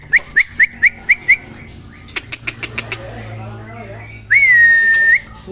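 Loud, close whistled trills and chirps from a caged songbird for sale, in quick repeated bursts, then a string of short clicks and a sustained bright trill near the end, with a voice talking faintly underneath.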